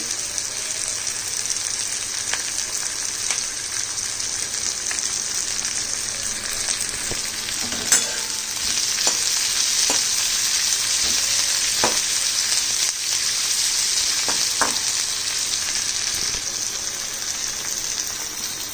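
A split green chili frying in a pan of butter for butter mushroom, a loud continuous sizzle and crackle with scattered sharp pops and spatters throughout.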